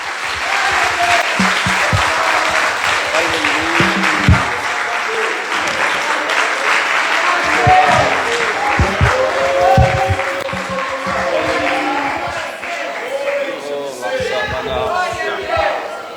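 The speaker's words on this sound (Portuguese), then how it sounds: "vamos aplaudir ao Senhor, vamos aplaudir ao Senhor." A church congregation applauds during a Thursday worship service, dense continuous clapping filling the room for the whole stretch, with cheers and voices mixed in.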